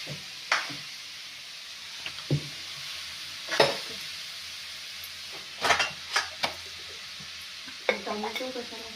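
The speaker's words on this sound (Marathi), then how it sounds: "आणि मग ती हळूहळू आपण परतवूया." Jackfruit vegetable is stirred in a frying pan on a home stove in a Konkan village, with a soft steady sizzle under occasional scraping and clinking of a spoon against the pan, and no voices.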